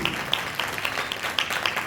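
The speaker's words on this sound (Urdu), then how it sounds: "کرائسٹ کی لائف کے لیے زوردار تالی" Applause from a congregation at a religious gathering, a dense steady wash of clapping with sharper individual claps popping out repeatedly across the short stretch.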